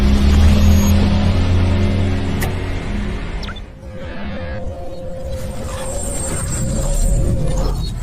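An old car drives along a road in a film set in 1989, its engine a loud, steady rumble that eases briefly midway before swelling again, with a sharp metallic clink near the start.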